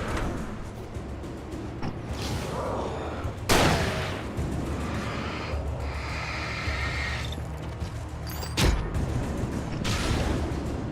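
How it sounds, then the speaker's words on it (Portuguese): Gunfire in the video game Alan Wake Remastered on Xbox Series X, a few sharp loud shots separated by seconds, with mechanical clicks and a continuous ambient game rumble underneath. "Pegar os dois com um tiro."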